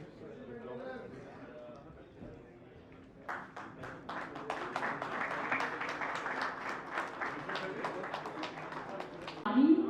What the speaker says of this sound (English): Big round of applause for Divyam Tiwari.